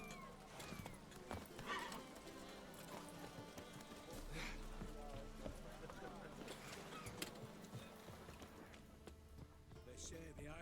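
Roach the horse galloping in The Witcher 3, steady hoofbeats under game music and voices, with a whinny.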